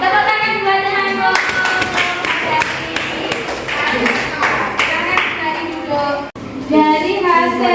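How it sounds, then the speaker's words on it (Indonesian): A school class claps hands together, brisk sharp claps from many children in bursts, with spoken voices and sung tones over and between them. "Tepuk tangan buat nyamuk."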